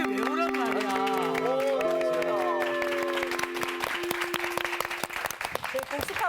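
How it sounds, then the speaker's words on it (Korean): A small group claps in a Bible class, with voices talking and laughing at first and then a lively burst of close hand claps that carries on to the end. "박수 한번 쳐드릴게요, 박수."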